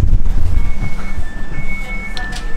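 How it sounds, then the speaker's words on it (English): A train pulls into Pforzheim Hauptbahnhof, loud low rumble of the rail cars with faint high squeals of wheels or brakes throughout, heard from close by. "the same train will then continue to go to Karlsruhe"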